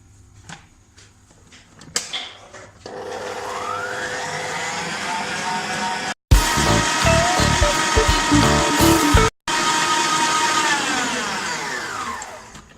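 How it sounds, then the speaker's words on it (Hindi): An electric beater machine whipping cream for a fresh pineapple cake whirs steadily and loudly. It cuts out briefly twice, and its pitch shifts as the motor runs on. "मैं इसको दोबारा बीटर मशीन जो है वो ऑन कर दूंगी।"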